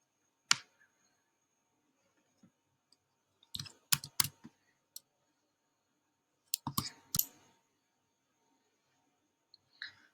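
Computer mouse clicking while navigating an LMS course-management interface: a handful of sharp, close clicks, some single and some in quick pairs, separated by quiet gaps.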